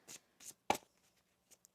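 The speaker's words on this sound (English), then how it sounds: "One more shuffle here." Tarot cards being shuffled by hand produce a few short, soft riffles and taps, quiet and close, with no talking.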